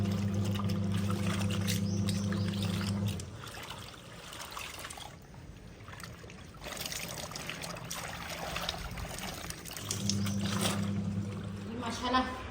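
Water pours from an open tap or stream into a bucket of indigo dye in a village courtyard, a steady splashing trickle that runs continuously and close, with a low humming tone at the start and end.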